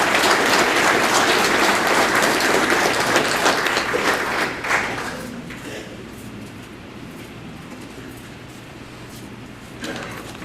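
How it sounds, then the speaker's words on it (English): A room at an FFA banquet breaks into dense clapping for Hannah Simmons that holds for about four seconds, then thins out to scattered claps and quiet room noise, with a brief thump near the end. "Please give a round of applause for Hannah Simmons."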